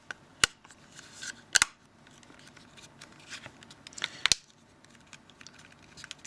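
A few sharp, isolated clicks as a Nokia Lumia 610 phone part is pressed and snapped into place during reassembly, close-up and spaced over quiet handling noise.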